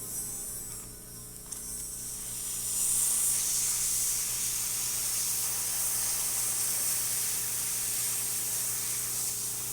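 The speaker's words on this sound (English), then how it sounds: "So let's test the steamer." Steam hisses steadily from the wand of a La Pavoni Professional espresso machine, a bright continuous spray that swells after a couple of seconds and holds over a low electrical hum.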